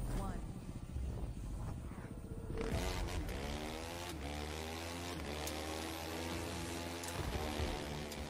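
A motorcycle engine in The Crew 2 racing game hums steadily with rising and falling revs like gear changes, loud and continuous under someone talking.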